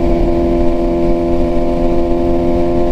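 Motorcycle riding through heavy traffic, its engine droning loud and steady up close with a sustained car horn blaring over it, no voices.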